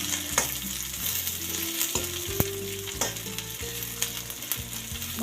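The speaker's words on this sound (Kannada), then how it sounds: "ಮಸಾಲೆ ಘಮ ಬರೋವರೆಗೂ ಫ್ರೈ ಮಾಡಬೇಕು" Coriander seeds, fennel and cumin fry in hot oil for a chicken gravy, giving a steady close sizzle broken by frequent scraping stir strokes, with no talking.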